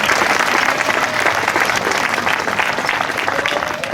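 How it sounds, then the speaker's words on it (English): Dense, steady crowd applause fills the whole stretch at the Burton Community Park grand opening, loud and even with no pause. "Let's clap for them too."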